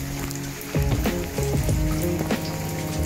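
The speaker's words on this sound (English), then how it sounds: "A lot of rain has fallen, and it continues to fall." Heavy wet-season rain pours steadily on surfaces in Lombok, a dense continuous hiss with occasional louder drips and splashes close by, no voices over it.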